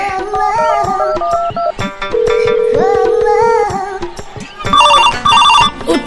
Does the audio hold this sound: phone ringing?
yes